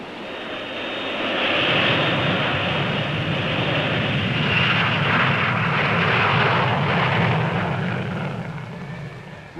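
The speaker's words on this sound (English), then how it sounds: "Russian bombers still operate from the Cairo West airfield." Russian bombers fly over the Cairo West airfield in Egypt in 1972. A loud, steady roar of aircraft engines swells and then holds across the whole stretch, with no voices.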